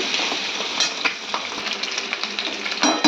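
Capsicum, potato, onion and pointed gourd sizzle and crackle in a hot pan, a loud continuous fry close by with occasional stirring scrapes and no talk.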